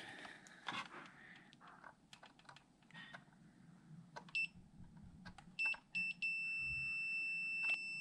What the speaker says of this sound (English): Beep mode.